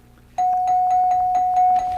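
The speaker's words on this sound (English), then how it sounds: "We've got ourselves a bell there" Game show bell rings on the 1974 To Tell The Truth set, a sustained electric tone with rapid repeated clapper strikes, loud and close, starting abruptly after a brief quiet moment and continuing to the end.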